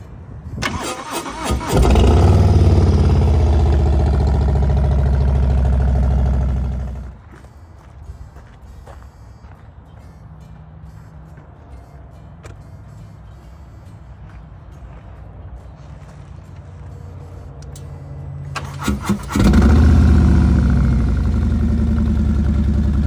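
A motorcycle started with a keyless fob cranks and catches, then runs loud and close with a deep rumble, drops to a quiet idle for a long stretch, and revs up loud again near the end.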